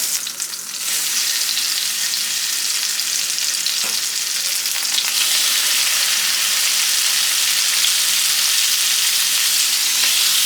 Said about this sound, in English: now I'm gonna put my salmon in here